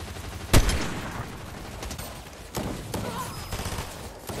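Sniper rifle shots in Fortnite: one loud, sharp crack near the start, then a few quieter single shots spaced apart over a steady game ambience, with no speech over them.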